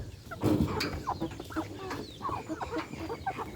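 Chickens cluck and call repeatedly at close range while being given a homemade snack feed, with irregular bursts of clucking and soft scratching throughout.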